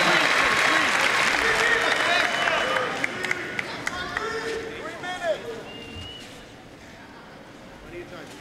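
A crowd cheers and applauds at a live grappling match, loud clapping and shouting that fades over several seconds, with commentators and voices talking throughout.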